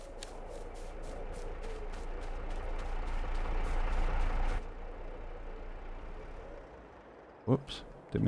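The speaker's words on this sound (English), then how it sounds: "Whoops, didn't mean to leave that engine on." A vehicle engine left running in Farming Simulator 22 drones steadily with a low rumble and rhythmic ticking, then cuts out abruptly, leaving quiet ambience and a couple of brief clunks.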